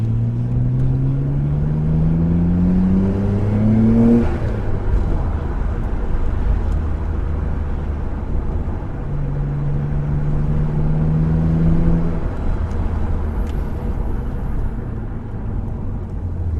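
A 1999 Nissan Skyline R34 GTR V-Spec N1 engine pulls steadily, its pitch climbing and dropping twice as gears change around the four- and twelve-second marks, over constant road and cabin rumble.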